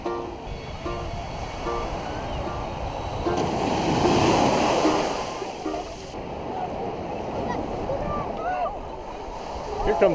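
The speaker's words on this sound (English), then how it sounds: "Here comes a big wave." A big ocean wave breaks at Wrightsville Beach, North Carolina, a rushing surge of surf that swells to a loud wash in the middle and then recedes, with voices and beach activity around it.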